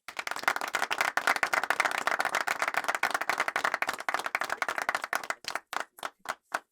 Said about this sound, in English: give a well-deserved round of applause to those who have helped you